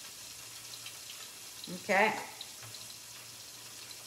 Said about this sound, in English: So I'm just gonna add a little bit of water.